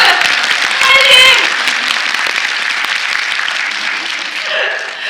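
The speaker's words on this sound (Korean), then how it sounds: "박수 한번 주세요." Audience applause at a Korean film screening's guest talk, a steady crowd clapping that swells early then holds and tapers, with a brief voice cutting in near the end.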